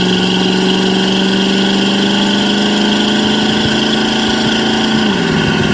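1969 Pontiac Firebird V8 under way, its engine holding a steady mid-pitched drone before the note drops sharply near the end, as if on an upshift.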